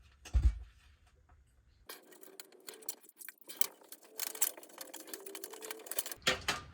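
Metal knockout being pried back and forth out of an electrical box while installing a closet LED strip light, close scraping, rattling and clicking metal sounds in irregular bursts.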